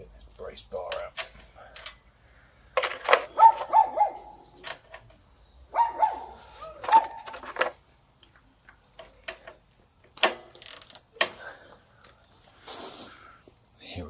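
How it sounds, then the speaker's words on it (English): A small yappy dog barks in sharp bursts, clustered and irregular, heard among clanking work on a Sinnis SC125 scooter while a person talks nearby. "Here, a small yappy type dog."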